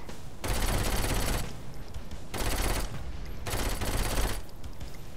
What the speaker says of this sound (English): so I'll use a gun.